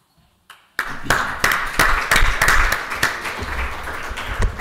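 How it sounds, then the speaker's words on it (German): An audience at a lecture breaks into applause for speaker Matthias Fischer: after a near-silent start and one soft knock, dense, sustained clapping rises abruptly and carries steadily to the end, full and close, with no talk over it. "Kriegt kriegt jetzt der Herr Matthias Fischer erstmal als Matthias Fischer einen Applaus"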